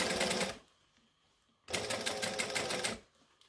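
A sewing machine stitches down a dress seam with the overlocked edge against the lining, in two fast close bursts of rapid needle chatter separated by a quiet pause.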